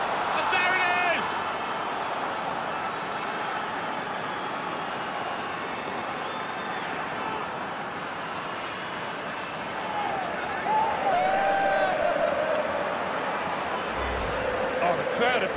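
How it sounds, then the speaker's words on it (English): A video-game stadium crowd roars steadily after a goal in a FIFA 20 match between Juventus and FC Barcelona, a dense continuous cheer with a swell near the end, while a commentator talks over it. "the crowd appreciating that"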